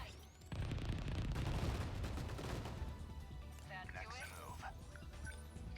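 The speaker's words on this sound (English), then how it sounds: "Takamiya, multi-lock missiles right about here." Multi-lock missiles launch in 13 Sentinels: Aegis Rim as a burst of rapid explosive firing and whooshes, followed by lighter electronic effects, while someone talks over the action.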